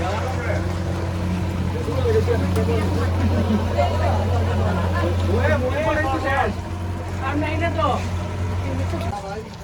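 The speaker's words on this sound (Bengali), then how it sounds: "বোট ছেড়ে দিছে আমরা।" A motorboat engine drones steadily nearby at Chobimura, a low constant hum running beneath people talking and chattering.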